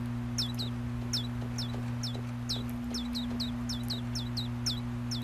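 Chickens cluck in short, repeated bursts throughout, fairly close, over a steady low electrical hum.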